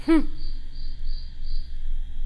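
A cricket at Ashmore Estates keeps up faint, continuous chirping over a low hum, after a brief sharp sound at the very start.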